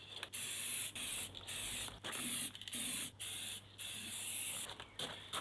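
A spray paint can gives repeated hissing bursts, about ten in a row, each lasting a fraction of a second with brief pauses between. The paint is going onto a steel van wheel for a Sprinter, and the hiss is loud and close.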